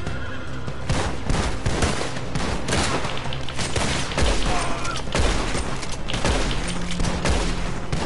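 Gunfire from a Red Dead Redemption 2 gameplay fight fills the clip, with dense, continuous shots and loud bursts layered over a busy game soundscape that includes horse whinnies, loud and sustained throughout.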